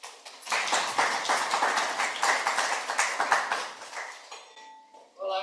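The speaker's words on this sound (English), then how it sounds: "a big round of applause again" Audience applauds a panel speaker at a high-level climate action panel, with dense clapping that runs steadily for about four seconds and then fades to scattered claps.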